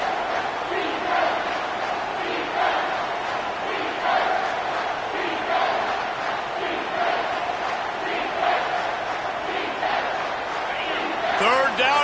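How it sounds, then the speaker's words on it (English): Football stadium crowd roaring in a continuous dense wall of chanting and cheering that swells and surges rhythmically, loud and distant-sounding, with a brief whistle near the end. "This crowd is tearing the lid off this place"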